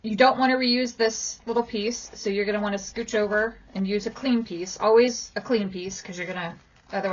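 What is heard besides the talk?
No distinct noise like a dog, phone or traffic.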